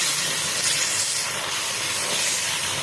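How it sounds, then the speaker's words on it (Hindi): Chicken pieces sizzle and brown in a pot for a degh-style shahi korma, giving a steady, close hiss of frying oil that holds at an even level throughout with no voices. "चिकन को हमने तकरीबन 5 से 7 मिनट भूनना है अच्छी तरह, और इसको ब्राउन होने देना है।"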